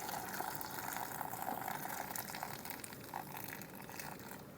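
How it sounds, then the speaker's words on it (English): Water pours into glass jars on a kitchen counter, a steady, fairly quiet trickling and splashing that runs continuously for several seconds with no one talking. "I think I might need a little bit more water in a couple of these jars"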